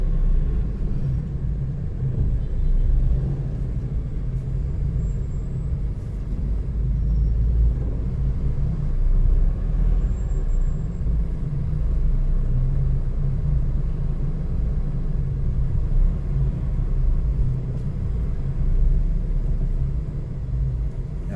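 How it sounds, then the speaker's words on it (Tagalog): Sunday street traffic near Quiapo Church in Manila, a continuous low rumble of passing vehicles and idling engines with faint distant high-pitched sounds, steady and moderately loud, no talk. "Traffic."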